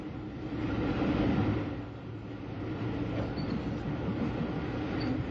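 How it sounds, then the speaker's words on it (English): A train headed by an E-Class 440 locomotive with ex-Southeastern Chatham stock stands at a signal: low, steady rumble and hum of a railway scene, moderately quiet, with a slight swell early on and no voices. "The train halted at the signal is headed by an E-Class 440 and composed of ex-Southeastern Chatham stock."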